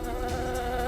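A steady, dense hum of honeybees from a beekeeper's hives, continuous and fairly loud throughout with no talk over it.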